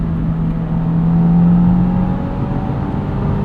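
A 2022 Subaru WRX Premium with a six-speed manual accelerating through the gears, its steady, loud engine drone swelling slightly in the middle before settling, heard from inside the cabin.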